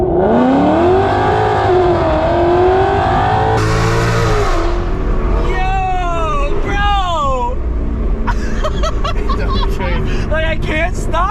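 Ford Mustang GT S550 accelerating hard through city streets, its loud V8 rising in pitch through several gear pulls, then quick revs and crackles near the end, close and dominant with people talking over it.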